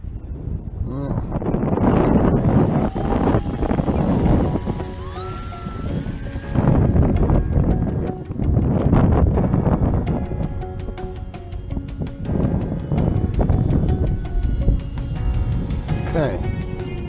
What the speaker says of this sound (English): Oh, wind started to pick up.